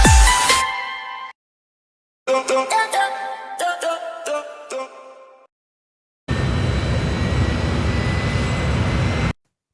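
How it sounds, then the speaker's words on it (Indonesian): Departure scene from an Indian film: a sharp burst of sound, then a run of rhythmic chiming tones, then a long, steady, loud roar of an airplane taking off. "Saat pesawat akan lepas landas"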